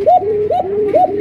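A Koka pigeon coos in a repeated rolling pattern, three close, loud bubbling coos with a rising-and-falling throaty warble, heard alone.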